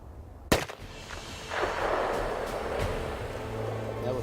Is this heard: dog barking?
no